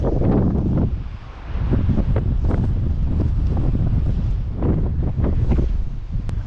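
Strong wind gusts buffeting the microphone on an East Coast hillside basin, loud roaring rumble that dips briefly then surges back, steady and close throughout with no talk.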